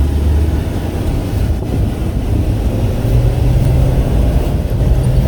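A 2017 Ford F450 XLT Jerr-Dan self-loader wheel-lift tow truck on a test drive gives a steady low engine drone with road and wind rumble, and no one talks.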